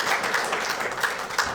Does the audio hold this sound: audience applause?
yes